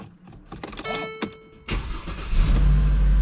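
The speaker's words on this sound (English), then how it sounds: "Now we're going to start it up." A 2011 Mercedes C300 is started after an oil change: a brief mechanical whir and clicks, then the engine catches with a burst and settles into a steady, close, low idle rumble.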